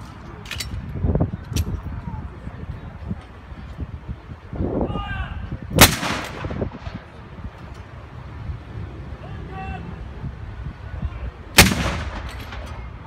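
Military guns firing smoke rounds at an outdoor military show: loud, sharp booms with echoing tails, two main reports several seconds apart, plus smaller bangs amid wind and faint voices.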